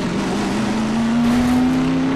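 A steady, droning car engine in Half-Life 2: Episode Two with a slowly rising pitch, loud and continuous throughout, like a vehicle accelerating.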